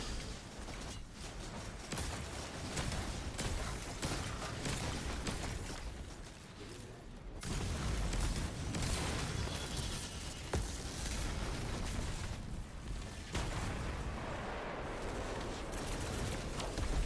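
Grenade blasts and gunfire crackle through a chaotic firefight in the video game Destiny 2, a dense, continuous barrage of booms and shots that stays loud throughout, with brief dips and renewed bursts.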